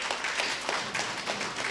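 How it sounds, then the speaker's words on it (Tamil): An audience at a Tamil talk on astrology claps steadily throughout, a dense, continuous patter of hands with no pauses. "ஒரு கைதட்டு கொடுங்கோ"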